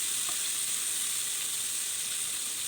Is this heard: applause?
no